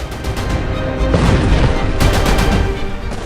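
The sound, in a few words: explosions and gunfire in Damascus, news footage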